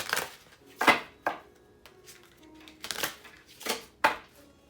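Oracle cards being shuffled by hand in several quick riffling bursts with pauses between, close and fairly loud, with no talk.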